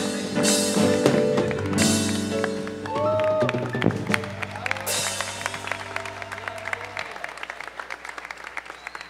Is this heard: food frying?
no